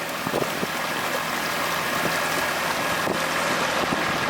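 A boat motors steadily across open water, its engine drone blended with rushing wind and water noise, loud and continuous, with no talking.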